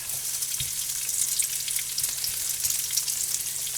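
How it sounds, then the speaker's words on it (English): Potatoes spread into an already hot pan fry with a steady, bright crackling sizzle up close, with small pops scattered throughout. "My pan's already hot. We're just going to spread our potatoes."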